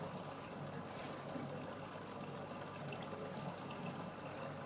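Water rushing through an aquarium top filter, driven by a pump set stronger than usual, gives a steady, continuous close splashing flow with no pauses or talking.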